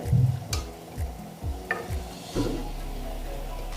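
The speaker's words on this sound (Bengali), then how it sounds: "এইভাবে আমি সবগুলো ভেজে নিচ্ছি" Mango malpua frying in a pan of hot oil, a continuous close sizzle broken by regular spoon or spatula knocks and scrapes, with a louder hiss of bubbling near the end and no talking.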